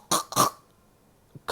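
A voice imitates a cat coughing up a large hairball: two harsh, close hacking bursts in quick succession, then a faint catch of breath.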